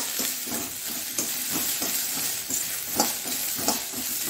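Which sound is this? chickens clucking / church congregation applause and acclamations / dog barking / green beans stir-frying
green beans stir-frying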